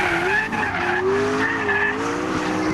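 McLaren P1 supercar sliding sideways as rear traction breaks, tires skidding with a sustained, wavering squeal over engine noise, loud and close throughout.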